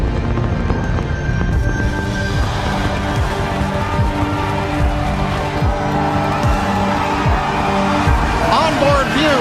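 A SpaceX Starship rocket's engines roar during launch, a continuous loud broadband rumble with crackle, while voices talk over it.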